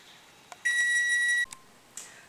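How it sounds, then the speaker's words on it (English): A kitchen timer sounds while quiche bakes in the oven: a steady, high electronic beep lasting under a second, framed by a few short clicks and chirps in an otherwise quiet room. "Our timer has beeped."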